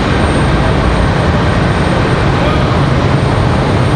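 An American Airlines jet airliner departs from Raleigh-Durham airport with a loud, steady, broadband engine roar that holds evenly throughout.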